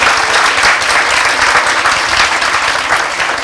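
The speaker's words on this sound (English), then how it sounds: "please give him a round of applause" A debate audience in a venue gives a full round of applause, dense and loud, with no voices over it.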